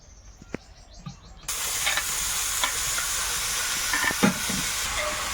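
Plain white oil heats in a wok, a quiet start giving way to a sudden loud, steady sizzle and hiss with a few stirring knocks, close by, and no talking.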